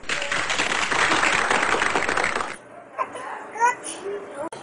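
A burst of dense applause and clapping from a group, with children's voices, lasts a couple of seconds and then cuts off, leaving quieter scattered sounds.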